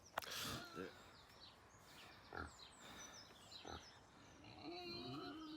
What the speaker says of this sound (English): The noise is my two pigs making a lot of noise this morning.